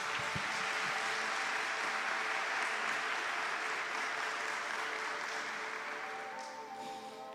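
An audience applauds at a talk on Marian consecration, steady dense clapping from many hands throughout, fading slightly at the end.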